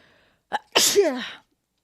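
A single loud, close human sneeze, preceded by a short sharp intake, with silence before and after.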